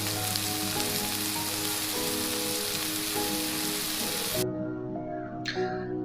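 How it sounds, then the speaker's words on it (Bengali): Onions with salt frying in a pan for a Bengali hilsa roast, a steady broadband sizzle throughout, close and fairly loud, with brief clinks near the end. "পেঁয়াজ দিলাম, হালকা একটু ভেজে নিয়ে আমি এখানে একে একে মশলা দিয়ে কষিয়ে নিব।"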